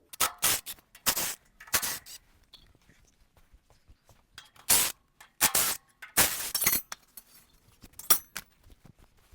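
A small metal retaining strip pried and pulled off the flap of a mini skid steer mulcher, giving a series of sharp metallic clinks and scraping bursts in irregular clusters, close and fairly loud with quiet gaps between.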